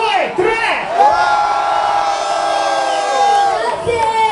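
A nightclub crowd at a 90s-themed party yells and cheers for a performer on stage, a loud sustained roar of whoops and shouts rising and falling, with an amplified voice over it.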